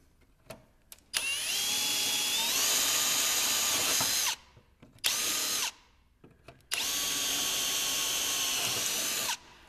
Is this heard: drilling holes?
yes